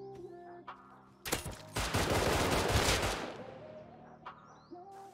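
Pistol gunfire in the Rust video game: a rapid, loud burst of shots lasting about two seconds, with quieter single clicks before and after.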